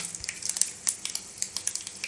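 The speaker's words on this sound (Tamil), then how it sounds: "கடுகு, உளுத்தம்பருப்பு போட்டுக்கோங்க" Mustard seeds and urad dal sizzle in hot oil in a kadai, a steady hiss with small crackling pops that rise and fall, alone with no voices.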